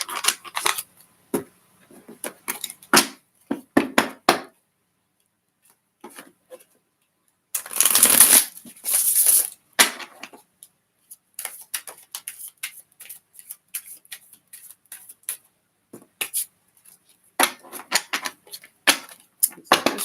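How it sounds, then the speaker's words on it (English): Cards shuffled by hand during a card reading: scattered riffling and flicking bursts, with one longer dense riffle in the middle, close and fairly crisp, with quiet gaps between and no talking. "Just shuffling the cards, Taylor."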